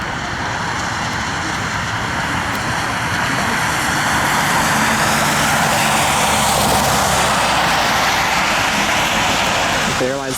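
A Boeing 737-800 airliner taxiing at Cleveland airport in rain and fog, a steady loud engine roar that swells slightly as it moves, with voices talking over it.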